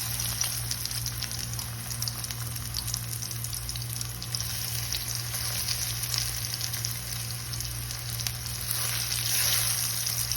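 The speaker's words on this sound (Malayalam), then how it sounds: "എണ്ണ ഒന്ന് നന്നായി ചൂടായി വരുമ്പം അതിലേക്ക് നമ്മൾ ഈ മിക്സ് ചെയ്ത് വെച്ചേക്കുന്ന സോയാബീൻ്റെ മിക്സ് ഇട്ട് കൊടുക്കുക." A soya chunk mix fries in hot oil with a continuous close sizzle and crackle over a steady background hum, with no talking.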